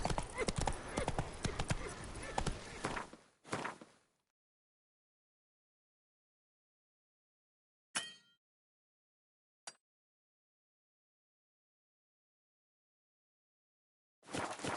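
Roach the horse galloping in The Witcher 3, a dense, loud run of hoofbeats at the start that breaks off into silence, followed by a couple of brief isolated sounds and a return of hooves at the end.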